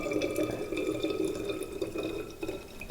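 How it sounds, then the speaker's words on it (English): Cheongju, the clear top layer of makgeolli Korean rice wine, poured off steadily from above the sediment into a bottle, a soft continuous trickle with light splashing and dripping, close and quiet throughout. "So just with a steady hand, pour off the cheongju."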